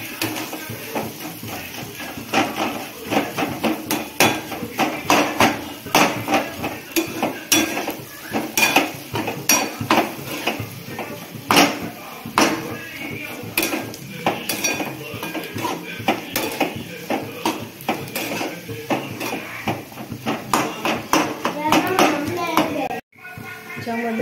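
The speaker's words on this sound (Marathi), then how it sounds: "फोडून घालते मी बटाटे। याला असं हलवून घ्यायचं।" Crumbled potatoes are stirred in a metal pan, with steady clinks and scrapes of a utensil against the pan continuing throughout, close and fairly loud, ending with a brief pause near the end.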